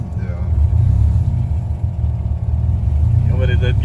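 A turbocharged Nissan 1400 bakkie on a stock motor holds a steady, close, low engine rumble throughout, with a voice briefly heard near the end.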